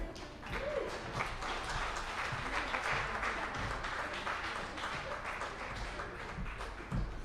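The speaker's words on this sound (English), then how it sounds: "can keep that applause going." Applause from the audience at the Brain Injury Association of North Carolina 40th anniversary celebration, a sustained wash of clapping with individual sharp claps standing out, continuing evenly for several seconds with no talk.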